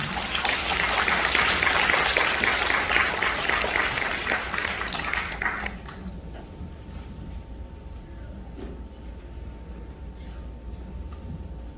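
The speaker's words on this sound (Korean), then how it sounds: "우리 나오실 때 큰 박수 환영해 주시기 바랍니다." Audience applause welcoming a speaker at a social services event in Gwangju, a steady mass of clapping that stops abruptly about halfway, leaving quiet room tone.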